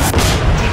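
A deployable pod fires off in the shooter game Section 8: Prejudice with a loud, short booming thump and a rushing, noisy burst that fades within a fraction of a second.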